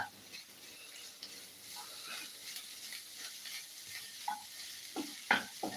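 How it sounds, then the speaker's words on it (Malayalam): Curry leaves sizzle in hot oil in a pan as they are stirred, with a steady crackling hiss and a few sharper scrapes and pops toward the end; the frying is fairly faint and heard without any talking. "കറിയപ്പല ഇട്ട് കൊടുത്തിട്ട് നന്നായിട്ട് ഇളക്കി കൊടുക്കുക"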